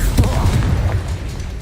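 Spell explosions from the Hogwarts Legacy video game, booming blasts that follow one after another in a short, dense burst of loud low rumble with no pause between them.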